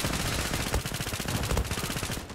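Rapid automatic P90 fire in the online shooter Zula, a continuous rattling burst of closely spaced shots filling the whole stretch, loud and dense with no voice over it.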